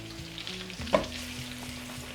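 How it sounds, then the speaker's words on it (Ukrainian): Eggplant pieces frying in a pan over medium heat, a close, steady sizzle with a soft stirring scrape and a brief clink near the middle. "Обсмажую їх на середньому вогні до золотавого кольору і м'якості з усіх боків, іноді обережно перемішуючи."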